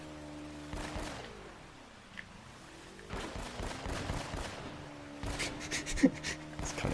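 Gunfire in the game Uncharted: Drake's Fortune comes as rapid bursts of shots, one early volley, then denser, louder volleys near the end, with a sustained background tone beneath.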